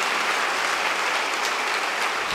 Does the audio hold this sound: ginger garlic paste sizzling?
no